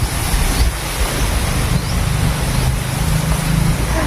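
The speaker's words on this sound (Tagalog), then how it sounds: "Walang ulan. Hangin lang." Strong, steady wind roars and buffets the microphone with low rumbling gusts, continuous and close, no voices.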